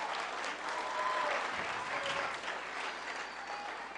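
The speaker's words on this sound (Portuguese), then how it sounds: "Você pode recebê-la com uma salva de palmas." Sustained applause from a church audience welcoming the preacher's wife to the front, steady and dense across the whole stretch with a faint murmur of the crowd underneath.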